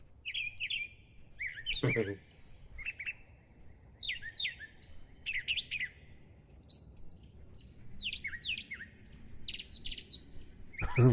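A bird sings a varied series of chirps and whistled phrases, fairly faint and distant, over a soft outdoor background with a couple of brief knocks.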